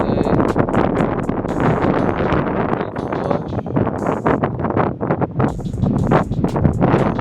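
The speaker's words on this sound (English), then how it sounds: "Gosh, it's so windy." Strong gusty wind buffets the microphone, roaring and rumbling unevenly throughout with rustling bursts.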